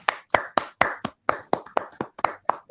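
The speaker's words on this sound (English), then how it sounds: "kindly have a round of applause for Vinit sir" A small audience claps for a guest speaker named Vinit at a CSR and business sustainability talk, sparse distinct hand claps in a steady uneven rhythm, close and fairly loud, with no voices.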